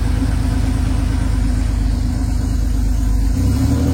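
A Porsche Carrera 2 engine runs steadily at idle, a loud, close, continuous low rumble with a constant throb and no change in pace, no voices over it.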